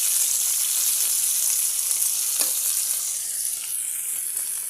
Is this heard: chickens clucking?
no